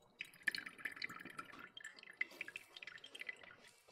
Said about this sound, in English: to clear it up a bit, I'll just pour it through some coffee filters